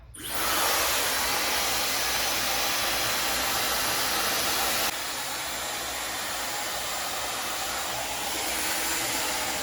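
A Dyson Supersonic hair dryer blows with a steady, loud whoosh, dropping slightly in intensity partway through as the setting changes.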